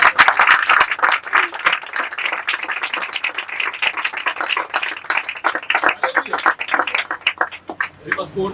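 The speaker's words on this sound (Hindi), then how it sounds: "इसलिए सब प्रभु की महिमा की तालियां देंगे।" A church congregation claps in praise, a dense run of hand claps filling the space for several seconds, steady and close with a slight thinning toward the end, with voices mixed in beneath.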